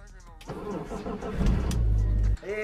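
A BMW car engine starting with a Ferrari key: a cranking, rising engine catch builds over about a second and runs steadily, then cuts off abruptly, with some voice sound around it.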